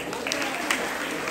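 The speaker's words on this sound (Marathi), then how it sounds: "महिलांसाठी जोरात टाळ्या" Brief burst of audience applause for the women at a Marathi Home Minister comedy game show, dense steady clapping filling the short moment with crowd noise mixed in.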